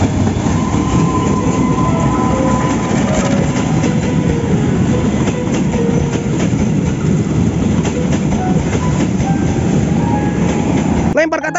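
A CC201 diesel locomotive train rumbles steadily and loudly, with continuous rail and wheel clatter throughout and a brief clunk at the very end.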